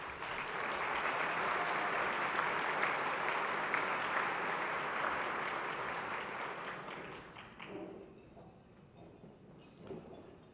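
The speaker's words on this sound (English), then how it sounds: "Please give him a round of applause." Audience applause for an award honoree at the Spirit of Manatee Awards ceremony, steady crowd clapping that holds strong for several seconds, then thins and fades out with a few scattered claps.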